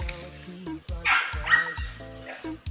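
A hunting dog barks in the woods during a tegu hunt, a rapid series of close, loud barks and yips with short gaps, interrupted by a brief squeal.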